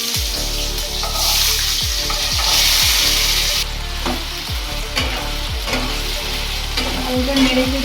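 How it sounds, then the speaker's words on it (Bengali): Potatoes fry in hot mustard oil in a wok, a steady close sizzle broken by repeated scraping stirs of the spatula against the pan. "আলুটা নেড়ে চেড়ে নিলাম"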